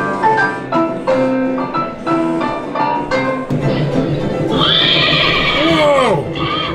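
A horse neighs loudly from a horse head prop in a saloon in a Virginia City, Nevada ghost town, a long shrill whinny with falling, wavering pitch, preceded by people talking and a sharp thump.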